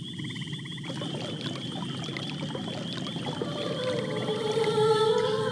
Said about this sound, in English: the Dryad begins to sing